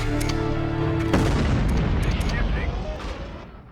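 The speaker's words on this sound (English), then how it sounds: "He's set to land right next to the tank, so I order Steel to fire." A mech firing on an enemy in the video game MechCommander 2, heavy booming cannon blasts with a long rolling decay, loud and close, with someone speaking over it.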